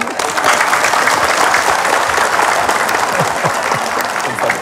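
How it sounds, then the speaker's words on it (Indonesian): A crowd at an Islamic religious gathering led by Ustad Dhanu and Ustadz Zacky breaks into loud, full applause, close and continuous, with a few voices faintly mixed in. "Iya, tepuk tangan."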